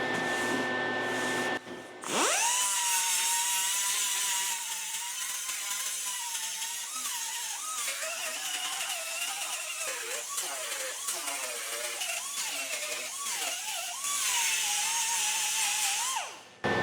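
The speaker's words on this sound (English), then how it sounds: "So I blended down those welds, let it cool a little bit" A grinder blends down welds on a rusted car door patch. A loud, sustained whine runs close for most of the clip, with its pitch dipping and wavering as the disc bears on the metal, then it spins down.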